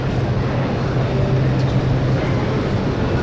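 A Delhi Metro train rumbles at an underground platform, a loud, steady low roar that fills the whole stretch without pause.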